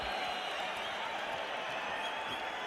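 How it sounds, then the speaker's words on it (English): A boxing arena crowd at the Mike Tyson versus Steve Zouski heavyweight bout applauds and roars continuously, a dense, even wash of clapping and cheering. "And now the crowd roaring even more"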